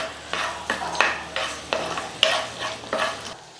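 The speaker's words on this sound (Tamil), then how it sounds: "மசாலாலாம் எண்ணெயில் நல்லா வதங்கிடுச்சு" A spoon scrapes and stirs chilli, coriander powder, garlic and turmeric sautéing in oil, about seven rhythmic strokes at roughly half-second intervals over a soft sizzle, close and clear.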